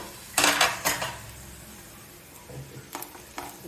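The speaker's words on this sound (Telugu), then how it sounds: "మూత పెట్టేస్తున్నాను" A lid is set on a cooking pan of raw plantain fry, two or three bright metallic clanks close together near the start, then softer clinks later over a faint background sizzle, with no voices.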